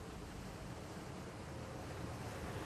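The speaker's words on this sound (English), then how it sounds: "Yeah, Mike, I can barely hear you over the roar over this water here" Roaring floodwater rushes as a steady, dense broadband roar with no pauses, wind buffeting the microphone, and no talk.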